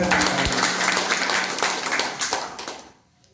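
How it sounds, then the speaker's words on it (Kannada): A crowd claps for bhajan singers after their devotional song, a dense burst of applause that carries on steadily, then thins and fades away near the end. "ಅಷ್ಟು ಅದ್ಭುತವಾಗಿ ಗಾಯನವನ್ನು ಮಾಡಿದ ಕಲಾವಿದರಿಗೆ ಒಂದು ಜೋರಾದ ಚಪ್ಪಾಳೆ."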